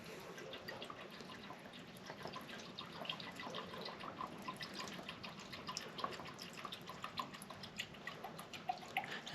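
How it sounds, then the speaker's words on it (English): Coolant trickling into a Suzuki LTR450 ATV during a temperature gauge install, a faint continuous liquid pour with small drips and splashes that grow slightly busier toward the end. "I'm gonna go ahead and top this guy off. With some new coolant."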